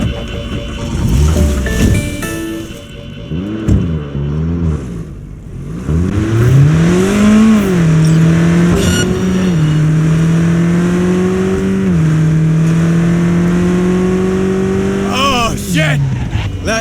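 A car races through a police chase in the video game Cyberpunk 2077, its engine revving hard, dropping and climbing again before settling into a long sustained drone, loud and close throughout.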